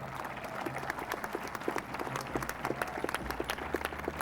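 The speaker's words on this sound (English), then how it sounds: "Please give yourselves a big round of applause" Graduating class of 2008 applauding themselves at a Mamaroneck High School graduation ceremony, a dense, steady wash of many hands clapping with scattered sharper claps, continuing throughout without speech.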